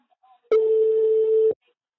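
A single telephone ringing tone sounds while a call is being placed: one steady, clear mid-pitched beep lasting about a second, alone, with quiet before and after.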